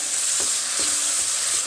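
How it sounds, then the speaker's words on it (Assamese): Tomato paste mixed with spices fries in a pan, giving a loud continuous sizzle, with a few soft scrapes as it is stirred. "এই পেষ্টখিনি ইয়াত মিক্স কৰি দিছোঁ আৰু এইখিনিও এতিয়া অকণমান সময় ভাজি ল'ম"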